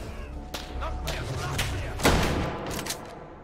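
Gunfire in a modded Take & Hold game, a fast string of sharp shots with one heavier report standing out midway, close and fairly loud under low background noise.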